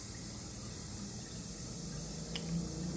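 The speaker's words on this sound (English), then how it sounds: "I'm gonna let the water run a little bit so it gets nice and cold." Cold tap water runs steadily into a sink for a few seconds, a faint, continuous hiss and patter with no pauses, close and unaccompanied by voices.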